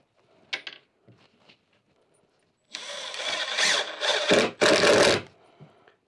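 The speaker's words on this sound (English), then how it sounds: "use a couple of drywall screws and a drill driver" A drill driver driving drywall screws, whirring in a few bursts, a short buzz and then longer, loud runs of motor whine, with faint clicks between.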